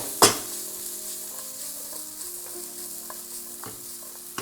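Vegetables frying in Thai green curry paste in a pan sizzle steadily and close, starting with a sharp clatter as they drop in, then a few light stirring knocks over the continuous hiss.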